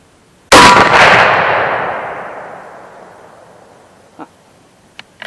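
A single loud, close rifle shot from an 8mm Mauser fired over iron sights cracks sharply and rings out in a long decaying echo, followed by a few faint clicks.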